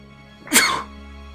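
One loud, close sneeze bursts out for about half a second, sharp at the onset and trailing off quickly, with no other voice around it.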